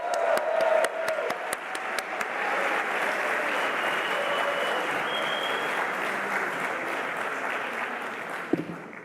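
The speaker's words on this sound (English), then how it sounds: "Give yourselves a round of applause" Graduating master's students fill the hall with loud, sustained applause, sharp close claps at the start settling into a dense wash of clapping that gradually thins toward the end.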